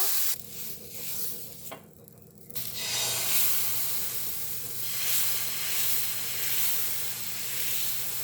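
Water sprinkled onto a hot, oiled pan bursts into a loud, close sizzling hiss after a couple of seconds of quieter sound, then keeps hissing steadily.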